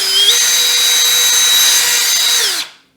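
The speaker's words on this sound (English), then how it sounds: "Attach a cordless drill, spin it around." A cordless drill spinning a cleaning brush in rotary engine seal grooves whirs loudly at a steady high pitch, its motor revving up briefly at the start and then winding down to a stop.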